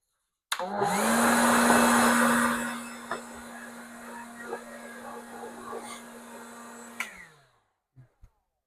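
Compressed air blowing off Jeep engine parts: a loud, close, steady hiss that starts abruptly, holds for a couple of seconds, then fades to a softer, sputtering flow before cutting off.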